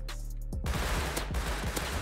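MP5 submachine gun fire in a survival shooter game, a rapid cluster of sharp shots followed by scattered single cracks, close and loud over a low droning engine-like hum.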